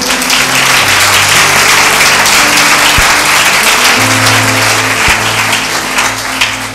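A church congregation gives loud, sustained applause and cheering to the Lord, a dense wash of clapping filling the hall and fading slightly at the end, with a low musical drone under it.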